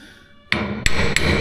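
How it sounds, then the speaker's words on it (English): A hammer strikes the steel dump bed of an RB Mack truck three times in quick succession, sharp close metallic impacts with a ringing tone and no talk. "How about the hammer?"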